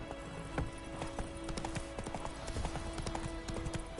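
Roach, a horse in The Witcher 3, trots with steady, close clip-clop hoofbeats over a faint game ambience and a low held musical tone.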